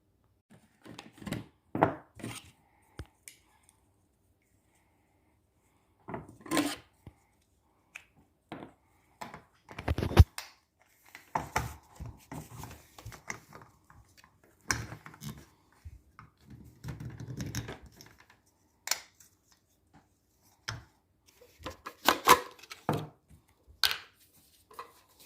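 A Jetboil camping stove is taken apart and set up by hand, heard as sparse clicks, taps and small metallic knocks in separate bursts, with quiet gaps between them and occasional soft handling noise.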